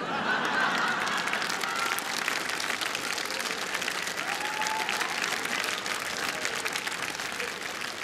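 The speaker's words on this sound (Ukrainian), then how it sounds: "Він покидає вас під бурхливі оплески" Stormy applause from a comedy show audience, dense continuous clapping that stays loud and even throughout, with faint voices mixed in.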